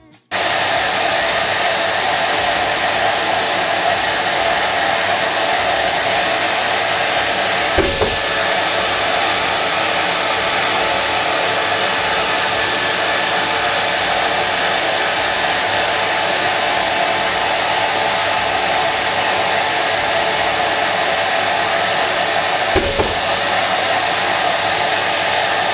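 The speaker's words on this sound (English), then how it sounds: "That was the first cut with my new shaper origin." A loud, steady whirring roar of a Shaper Origin handheld CNC router cutting with a vacuum running, continuous and unbroken for the whole stretch, with no talking.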